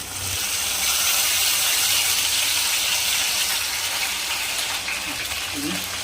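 Tempering sizzles hard in a hot pan for a Malvani-style mandeli fish curry with raw mango, a steady, close, loud frying hiss that runs unbroken throughout.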